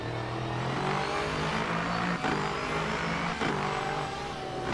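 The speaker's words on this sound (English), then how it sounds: "I'm not sure I like the sound of that Porsche." Porsche GT3 race car in the Le Mans Ultimate racing game at Interlagos, its engine droning steadily and loudly throughout with a slightly rough, uneven note and brief dips in level.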